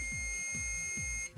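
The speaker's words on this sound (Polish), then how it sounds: "Weźmy sobie pikacz. Przyłóżmy sobie do masy." A continuity tester probe held against ground on an old Fujitsu Siemens PC: a steady, high-pitched electronic tone sounding continuously at close range for over a second, then cutting off abruptly.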